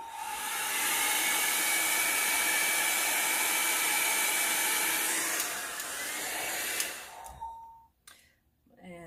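Hair dryer blowing on wet watercolor paint on a mushroom painting card, a loud steady whooshing roar for about seven seconds before it shuts off and fades, with faint handling noises after.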